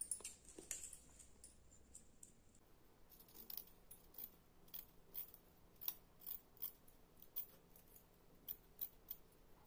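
Scissors snip through blouse fabric in a steady series of short, crisp cuts, close and quiet, one after another with brief pauses.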